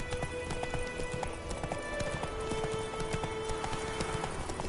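A horse gallops in The Witcher video game, a quick steady clip-clop of hooves, close and moderately loud, over a faint ambient bed, with no talking.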